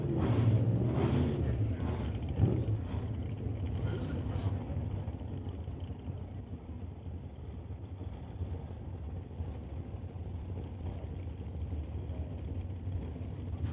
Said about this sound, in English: So big long burnouts here for the Corvette and the Camaro.